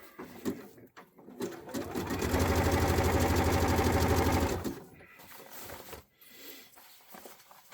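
A sewing machine stitches fold-over trim onto stretchy fabric, guided on the free arm. It runs in one steady, loud burst of a couple of seconds, with quieter handling noises before and after.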